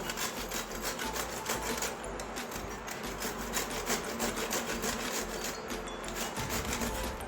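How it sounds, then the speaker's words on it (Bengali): Peeled tender pointed gourd (potol) is rubbed against a hand grater over a plate, making steady, rhythmic rasping strokes close by, with no speech. "এর মধ্যে পটলটা এরকমভাবে ঘষে নেবো"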